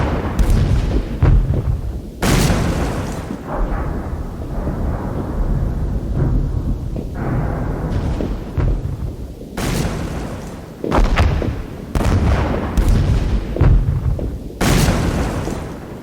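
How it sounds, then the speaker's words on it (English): An artillery bombardment rolls on in repeated heavy booms, with loud blasts arriving every few seconds over a continuous rumbling din, like distant and nearer shells landing in quick succession. "the Turks suddenly opened up with a terrific bombardment."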